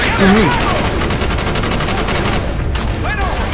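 Rapid bursts of gunfire from the video game Call of Duty Black Ops, loud and dense throughout, with a voice speaking over the shooting.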